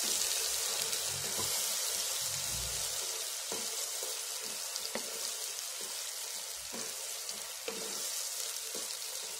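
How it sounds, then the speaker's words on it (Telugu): Red chilli chutney mixture frying in oil in a pan gives off a soft, steady sizzle, with occasional scraping clicks as it is stirred. "వేసుకొని ఆయిల్ అంతా దానికి పట్టేలాక బాగా కలుపుకోవాలి."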